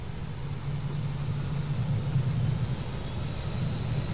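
An aircraft's left engine spools up during start, a steady low rumble and whine with a thin high tone holding throughout, even and fairly loud with no talk.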